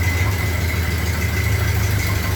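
A Ford Model A pickup engine idles on choke while warming up, a steady, close low-pitched chug with an even rhythmic throb and a faint high whine, no voices over it.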